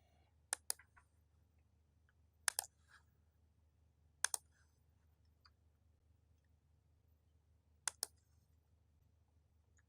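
Computer mouse clicks in a quiet room, sharp double clicks spaced a couple of seconds apart over a low steady hum.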